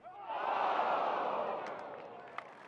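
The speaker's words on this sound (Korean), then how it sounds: "아쉽게 빗나간 퍼팅엔 탄식이 나옵니다" A golf gallery at the Masters tournament lets out a collective groan over a missed putt: a broad crowd sigh swells quickly, holds, then slowly fades, with a faint sharp knock near the end.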